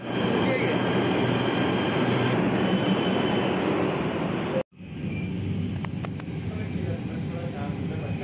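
Delhi Metro train in motion, a loud, steady rumble of wheels and rushing air heard from inside a carriage, cut by a brief drop, then the rumble resumes with a few faint ticks.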